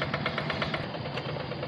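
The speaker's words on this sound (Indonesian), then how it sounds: "mesinnya adalah Yanmar TF65 dan bodi sasisnya adalah Quick G600" Yanmar TF65 engine on a hand tractor with a Quick G600 chassis, running in a rice field with a steady rhythmic chugging pulse, loud and close, with no one talking.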